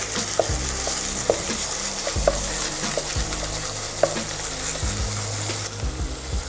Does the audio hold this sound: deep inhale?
no